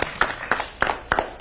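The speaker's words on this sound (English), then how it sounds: "let's give her a round of applause anyway" A few people clap sparsely at a mayor's news conference, about five distinct claps spaced roughly a third of a second apart, close and moderately loud, with no talking.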